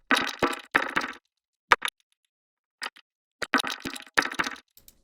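A djembe loop run through a glitch multipass preset sounds as bursts of choppy, stuttering hand-drum hits broken by gaps and isolated clicks, close and alone.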